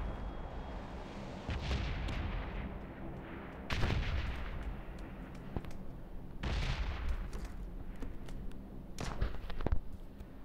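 Gunfire and a grenade blast in the battle game PUBG: booming, rumbling detonations and sharp shots land in bursts over a steady low background roar, with no talking.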